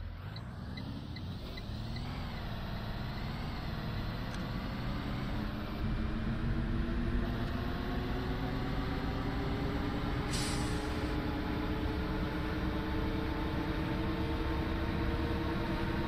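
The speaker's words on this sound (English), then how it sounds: "Honestly, I think full-size handy buses are cool." A full-size transit bus idles and drives with a low, droning diesel engine hum and rising gear whine, then a short sharp hiss of the air brake releasing partway through, heard from inside.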